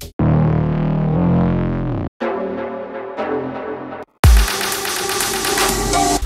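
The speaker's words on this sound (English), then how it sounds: "I created a simple fill using a raised bass and a synth" Loud deep house music in three blocks: a sustained synth chord, then a pulsing raised bass line, then a bright, dense distorted synth section.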